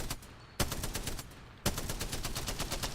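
A light machine gun in the Apex Legends video game fires in two long, rapid bursts of evenly spaced shots with a brief gap between them, dense and steady, with no voices.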